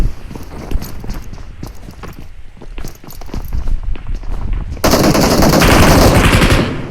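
Gunfire in a mobile battle royale game during a tournament match: dense rapid bursts of shots and footsteps-like clatter throughout, growing louder and denser near the end, with no talk over it.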